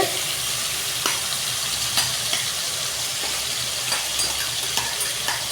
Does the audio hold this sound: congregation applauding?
no